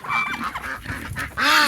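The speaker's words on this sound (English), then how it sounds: "Why'd you hit that goose like that?" Several goose honks in quick succession, loud and close, with wavering calls and a sharper, stronger honk at the end, no talk.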